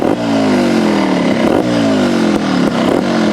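A Sherco trials motorcycle engine revs in close, loud bursts, with harmonic pitch sweeps rising and falling about three times and some mechanical clatter between, no voices.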